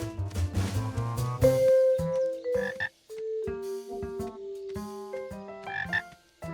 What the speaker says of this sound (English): point the microphone toward the sound till you hear it nice and loud